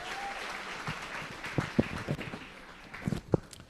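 A secondary school debate audience claps for a finished round, scattered, fairly quiet applause with a few sharp louder claps standing out near the listener.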